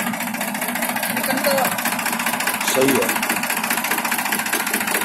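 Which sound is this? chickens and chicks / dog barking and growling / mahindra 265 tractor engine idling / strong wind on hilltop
mahindra 265 tractor engine idling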